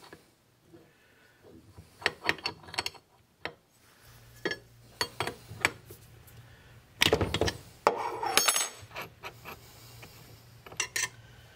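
A metal centering pin is worked out of a router on a shop workbench, bringing scattered close clicks, taps and metallic scrapes, a couple of louder rattling bursts in the middle, and a low hum under parts of it.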